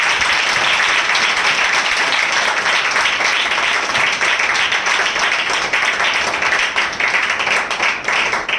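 Loud, steady applause fills a church assembly hall as the congregation welcomes listeners to a spiritual gathering, dense clapping sustained throughout with no voices over it.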